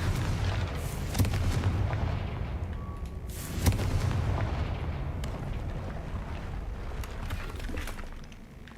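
A Confringo fire spell is cast in Hogwarts Legacy, sharp blasts and booming bursts over a low rumbling backdrop, with a couple of distinct cracks standing out amid the continuous dungeon noise.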